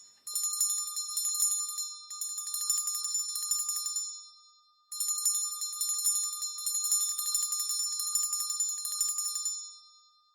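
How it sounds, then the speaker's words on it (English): Bright electric bells ring loudly in two long continuous bursts, shrill and rattling, with a brief pause between them. "it rang out loudly, and so did every bell in the house"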